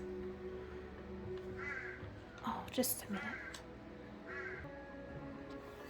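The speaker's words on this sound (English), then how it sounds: "I just had to go out and see to the crows. They brought out a baby one, and I think it must be male because he's very vocal" Crows caw nearby in short harsh calls, a vocal baby crow among them, sounding in several separate bursts over faint ambient noise while a person speaks briefly.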